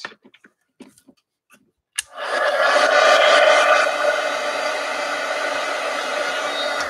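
A few small clicks and taps, then a hair dryer switches on and runs loud and steady close by, drying a DIY journal cover with its continuous blowing whoosh.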